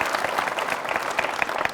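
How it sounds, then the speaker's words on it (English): An audience at a televised panel debate on reproductive health gives a round of applause, a dense patter of many hands clapping steadily at a fairly close distance with no talk over it. "A round of applause for that."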